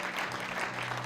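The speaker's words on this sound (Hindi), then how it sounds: "प्रभु के लिए ताली बजाओ आप" A church congregation claps for the Lord in a steady, dense burst of applause that fills the room, with no voices standing out.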